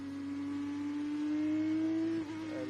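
A Formula 2 car crawls slowly in first gear around a rain-soaked street circuit. Its engine holds a steady low drone that rises gently in pitch, then drops briefly as the driver lifts. No voices are heard.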